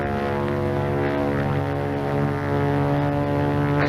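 A propeller-driven plane drones steadily with a dense, continuous engine hum and strong low harmonics, heard at a distance with no talk.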